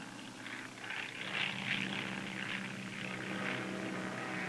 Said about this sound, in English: So an air tanker is dispatched and a drop is made to tie in the flank to the ridge.